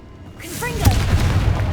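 A Confringo spell blast in the video game Hogwarts Legacy, a deep booming explosion that swells up after a short rising whoosh and rolls on as a sustained rumble.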